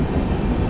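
Jallianwala Bagh Express rolls along past Asansol, a loud, dense rumble of wheels and carriage noise, continuous and close from onboard.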